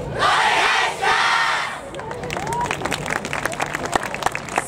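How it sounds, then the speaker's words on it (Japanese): Audience at the Inuyama yosakoi dance festival cheers, shouts and applauds loudly, then settles into rhythmic clapping along, with voices calling out over the crowd. "手拍子よろしくお願いします"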